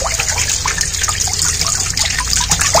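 Plain water pours and splashes steadily over hands as hair dye is rinsed off, making a close, continuous trickling wash with no pauses.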